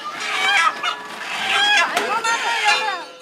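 A chicken held before a ritual slaughter at a temple clucks and squawks loudly and close by, in a rapid, agitated string of calls.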